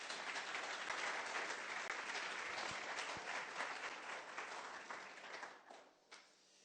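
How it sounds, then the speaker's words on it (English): An audience at a Mage Titans Mini event in the UK claps in a broad, steady round that begins full and gradually fades toward the end, leaving a few scattered claps. "so I think that deserves a round of applause from you all"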